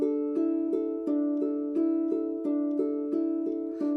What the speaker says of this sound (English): that picking pattern that you use for that intro, which will look and sound something like this